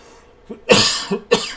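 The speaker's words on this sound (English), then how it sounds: "so there will be some random coughing, for which I apologize" A few harsh coughs close by, one short burst followed by two sharper ones with brief pauses between, no talking.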